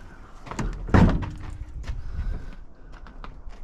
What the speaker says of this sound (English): Let's see if the door opens.